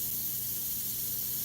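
An Iwata CM-SB airbrush sprays Createx illustration paint onto Claybord, a steady close hiss with no break for the whole stretch.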